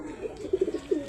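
Club-ring racing pigeons give a soft, throaty, repeated coo up close, several low warbling pulses over about a second against a faint background hum.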